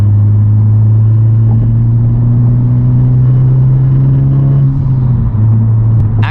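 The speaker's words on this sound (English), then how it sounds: "Actually, I think a good majority of that rattling you're hearing is from the back of the car, the back seat." A 2021 Honda Civic Type R with a MAPerformance street exhaust cruises with a steady, loud low engine and exhaust drone throughout, dipping slightly near the end. Any rattle from the back seat is not clearly separable.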